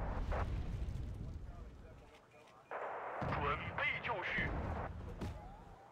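Artillery salvo firing in a 1980s ANZAC naval wargame, heavy low booms spread across the clip with someone talking over them in the middle stretch.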